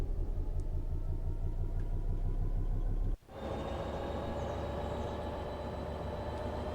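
A Class 66 diesel locomotive in Train Sim World 5 on the West Coast Main Line throbs with a steady low rumble, breaks off briefly, then surges back louder with a rising engine drone as it pulls away.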